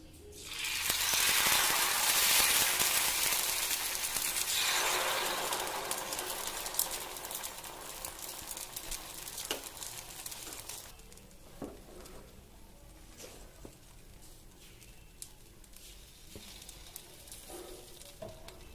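Cassava adai batter poured onto a hot stone griddle hisses into a loud, broad sizzle that swells for several seconds, then settles into a quieter steady crackle with scattered small pops.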